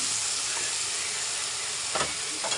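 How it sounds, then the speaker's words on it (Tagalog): Bitter gourd (ampalaya) sautéing in a pan with cooked tomatoes gives a steady broadband sizzle throughout, with a couple of brief stirring scrapes near the end. "Tama, magigisa tayo ng ampalaya."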